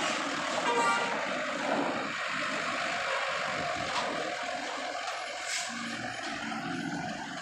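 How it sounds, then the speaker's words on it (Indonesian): A double-decker truck drives onto a ferry at Merak port, its engine rumbling steadily with brief horn toots and other vehicle noise in the background. "Oke, masuk lagi truk double decker."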